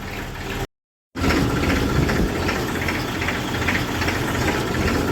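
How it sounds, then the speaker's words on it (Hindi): A Massey tractor's diesel engine runs steadily on a farm during sugarcane work, a loud continuous knocking chug with a brief dropout near the start, with no talk over it. "दोस्तों मैसी स्टार्ट हो गया है जी"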